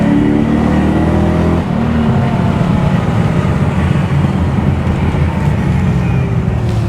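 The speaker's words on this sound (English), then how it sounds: "Shall we do a backfire?" A car engine held at a steady rev with a brief dip partway through, then climbing again, loud and close from inside the cabin; no distinct backfire pops stand out.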